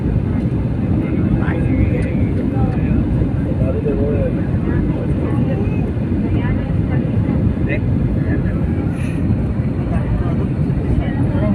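Airliner landing at Bahrain airport, heard from inside the cabin: a loud, steady roar of engines and rushing air fills the whole stretch, with people speaking over it.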